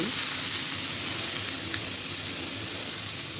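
Butter sizzles steadily on a hot dosa griddle, a constant bright crackling hiss, close and fairly loud, with no speech.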